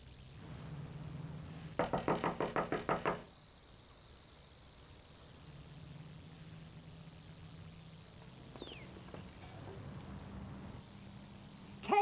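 A quick burst of about eight sharp knocks on a door, fairly close, then quiet room ambience with faint rustles and small noises.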